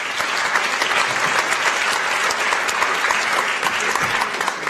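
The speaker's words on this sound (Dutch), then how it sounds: "Graag een applaus." An audience at a talk show on development funding applauds in a dense, steady, even roar of clapping that holds without breaks throughout.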